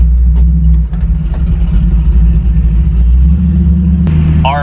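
A 1969 Chevrolet C10 truck engine fitted with Holley Sniper EFI rumbles loudly and close, a deep steady throb with slight rises in revs as it pulls away.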